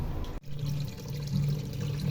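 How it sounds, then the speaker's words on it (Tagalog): Water gushes steadily down an unclogged bathroom floor drain, a loud continuous rushing pour with one brief break near the start and no voices. "So, tuloy-tuloy na, Ayan, tuloy-tuloy na yung tubig."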